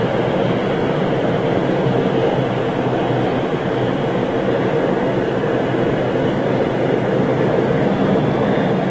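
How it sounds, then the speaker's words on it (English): A turboprop airliner at Manchester Airport gives a loud, steady, broadband engine roar with no breaks throughout, and no voices. "turboprop liner."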